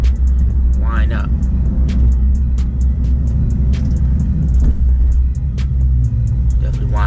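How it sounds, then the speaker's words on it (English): A Dodge Charger Hellcat with its supercharger winding up, a loud continuous low engine rumble close by with brief rising whines, while a person talks over it. "I love the way that supercharger wind up."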